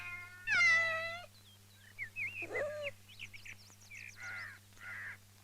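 A pet cat meowing while being fed: several distinct, fairly close meows of varying pitch, some drawn out and some short, over a low steady hum, with no talking.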